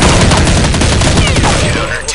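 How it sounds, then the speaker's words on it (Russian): Gunfire in a PvP video game, a loud dense burst of rapid automatic shots filling the whole moment before tapering off at the end. "В кого вы там стреляете?"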